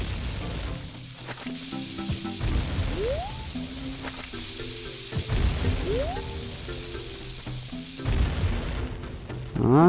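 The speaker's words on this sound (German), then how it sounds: "Ich wollte den Bombe nicht schmeißen." A bomb goes off in Zelda: Ocarina of Time, giving several muffled booms and thuds over game music, with rising whistle-like effects and a louder burst near the end.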